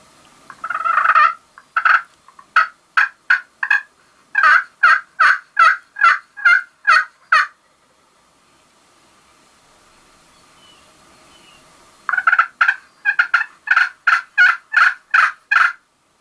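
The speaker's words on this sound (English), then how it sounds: "He gobbled, he broke into a strut, but he's 250 yards away." A wild turkey gobbler, about 250 yards away in open spring woods, gobbles in two clear bursts of rapid, stuttering notes separated by a quiet gap. No one speaks.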